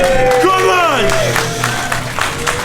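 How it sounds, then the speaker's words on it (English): A wrestling show crowd claps and cheers under a loud announcer who urges them to make noise, with the applause kept in the background beneath the voice. "We're getting clapped to."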